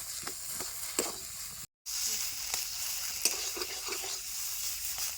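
Soft, steady sizzling of ridge gourd peels frying in a pan, with occasional scraping stirs and a brief gap of silence partway through.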